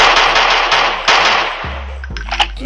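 Automatic AK-47 fire in a Minecraft-style blocky shooter game, a few sharp shot bursts with thuds, then quieter game sounds toward the end.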